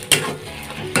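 Spices frying in a pan while a utensil stirs them, two brief scraping clatters over a soft steady sizzle, close and fairly quiet, with no talk.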